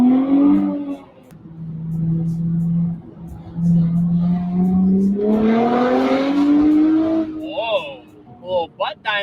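Nissan Z with new downpipes on a test drive, engine note rising steadily through acceleration with a sharper rasp midway, then short bursts as it shifts, with people talking over it inside the car.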